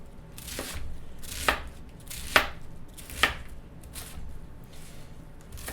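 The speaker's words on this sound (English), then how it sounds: "Rough chop." A knife rough-chops a head of cabbage on a board for a cabbage and sausage soup, giving several distinct, close chops spaced about a second apart over a low, steady background.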